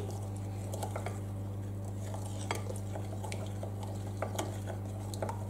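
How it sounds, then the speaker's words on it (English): Muffin batter with beaten egg and vanilla is stirred in a bowl, giving soft, faint scraping and light clinks of a utensil against the bowl over a steady low hum. "And we have to give that a stir."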